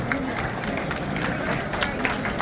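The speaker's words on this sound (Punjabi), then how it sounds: "ਉਹਦੀ ਜ਼ੋਰਦਾਰ ਤਾਲੀਆਂ ਨਾਲ ਆਪਣੇ ਆਪ ਦਾ ਸਵਾਗਤ ਕਰੋ" Applause from an audience at a Lohri celebration, a dense patter of many hands clapping at moderate loudness, steady for a couple of seconds.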